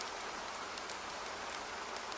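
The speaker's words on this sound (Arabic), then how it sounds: "طاح مطر على قطر" Steady rain hiss, a sound effect in an Arabic play about rain falling on Qatar, a continuous faint wash of falling water with no voices.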